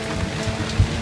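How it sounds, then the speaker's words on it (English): Steady heavy rain pours down during a storm with lightning and southeast winds on an anchored boat off Mazunte, Mexico, a dense even hiss with a dull low thump near the end, no voices. "I just felt the rain kind of going into my head"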